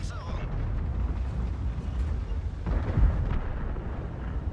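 Tank cannon shot in World of Tanks with a Leopard Prototyp A, a deep rumbling boom with a dull second blast shortly after, set against low battle noise.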